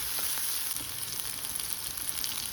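Chopped onion sizzles in a hot pan, a steady close crackling hiss of frying that fills the short moment with only faint clicks over it.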